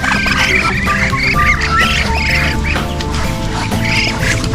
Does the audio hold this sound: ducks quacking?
yes